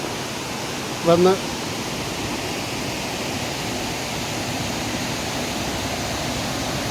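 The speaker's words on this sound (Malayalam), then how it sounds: "ഇവിടെ നിന്ന് താഴേക്കാണ് വെള്ളം ഒഴുകുന്നത്" Water of the Meenmuttippara waterfall in Mallappally, Pathanamthitta, tumbles down tiers of rock, a steady broad rushing wash heard close and loud throughout, with a brief spoken word near the start.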